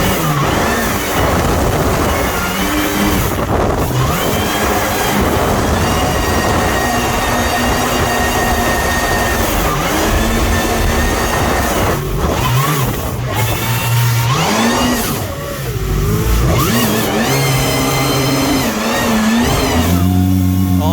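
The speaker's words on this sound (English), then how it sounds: "I think Benny said it's a 300 horse jet" A 310 HP mini jetboat engine revving hard, a loud, continuous roar that rises and falls in pitch as the throttle is worked, close by and dominating throughout.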